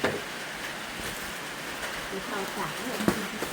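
Heavy rain pours down during a storm at a house construction camp, a steady close hiss of water on surfaces with occasional splashes and faint voices in the background.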